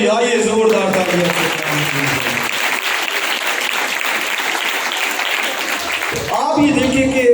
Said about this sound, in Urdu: ہاللویا یہ زوردار تالیاں